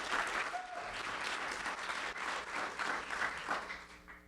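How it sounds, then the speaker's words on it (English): Audience applause at an awards show, a steady wash of many hands clapping that fills the whole stretch at moderate loudness with no talk over it. "so I give him a round of applause"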